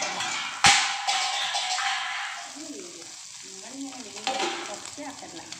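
Fish frying in a hot pan, a steady close crackling sizzle, opened by a sharp metallic clatter, that gradually softens.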